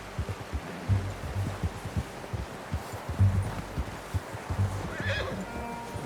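A horse in Red Dead Redemption 2 whinnies near the end while hooves clip-clop in an uneven rhythm throughout, fairly close and moderately loud over quiet outdoor ambience.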